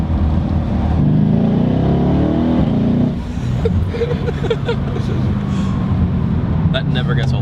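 A tuned 900-horsepower Mercedes E63 AMG wagon accelerating hard through third gear, a loud, deep engine roar that eases off partway, with someone talking over it afterward.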